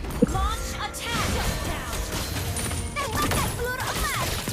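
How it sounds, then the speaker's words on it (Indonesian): Rapid gunfire and impact bursts from Mobile Legends gameplay crackle over a busy mix of electronic effects and whooshes, dense and continuous, with background game sounds throughout. "Tembakan peluru emas."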